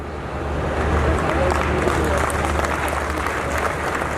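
An audience applauds at a book launch ceremony, a dense, continuous wash of clapping that holds steady and fairly loud, heard from within the hall.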